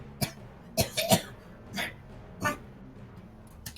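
A series of short, harsh coughs comes in irregular bursts, a few close together, then separated by brief pauses, moderately close.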